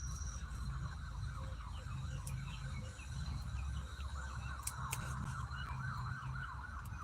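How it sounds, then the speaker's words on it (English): An emergency vehicle siren wails faintly in the distance, rising and falling under steady outdoor background noise and traffic rumble. "I hear sirens"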